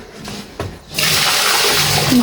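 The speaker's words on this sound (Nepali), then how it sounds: "मैले चाहिँ अब यिनीहरूलाई पानी हालिदिन्छु।" Water poured out for pigs after their feed starts after a few faint knocks and becomes a steady, close gushing splash that continues to the end.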